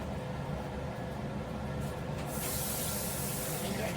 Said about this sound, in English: I think I turned the blower on.